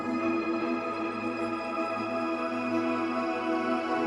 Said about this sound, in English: I added this granular loop from Sweet Tooth that Make Pop pack as well, and added some tremolo to make it kind of bounce back and forth.